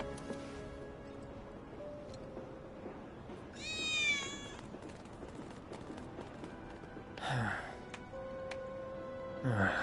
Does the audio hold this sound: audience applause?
no